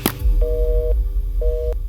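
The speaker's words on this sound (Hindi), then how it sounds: "फोन काट दिया।" Phone line tone after a call is hung up: two steady electronic beeps, each about half a second long, sound close and clear over a faint background hum, with no talk.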